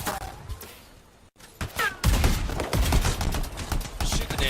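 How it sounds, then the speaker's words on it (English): Weapons fired at an enemy in the sci-fi shooter Anthem, rapid loud volleys of gunfire and impacts after a brief quieter stretch, continuing in dense bursts. "Shoot the damn thing."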